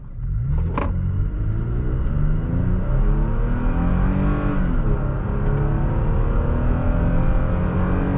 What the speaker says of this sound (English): That engine does not sound bad at high RPMs.